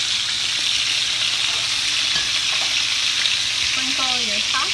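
Bone-in chicken thighs fry in a hot pan with a loud, steady crackling sizzle, close and constant, joined by light scraping as the pieces are turned and a brief voice near the end.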